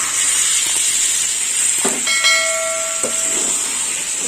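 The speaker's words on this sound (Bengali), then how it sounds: "কষা হয়ে গেছে, এবার জল দিয়ে দেবো। দিয়ে দিলাম জল।" Water poured into a frying prawn and pointed gourd curry in a pan, a loud steady steaming hiss and sizzle with faint clinks, no talking.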